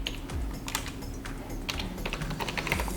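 Rapid clicking of keys on a computer keyboard as a fastboot command is typed, a steady run of close, light taps over about three seconds with no talking.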